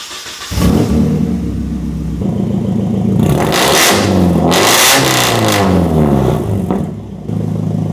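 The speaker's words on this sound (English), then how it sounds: "Taking a look under the car here, you can see exactly why it is so loud." A car with a straight test pipe and no catalytic converter idles loudly, then its engine revs up and back down with a raspy, droning exhaust note, close and continuous with no speech.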